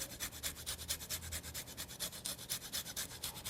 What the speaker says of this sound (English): now I am going to zest my lemon. So you just take it and you grate it like this